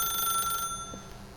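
A telephone rings in The Stanley Parable video game, a steady electronic bell tone that holds briefly and then cuts off, leaving quiet room tone.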